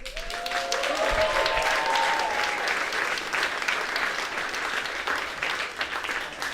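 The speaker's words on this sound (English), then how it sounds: "So please give her a warm applause." Sustained applause from an Ignite Cardiff talk audience fills the room, steady and dense, with a few raised voices and cheers rising over the clapping.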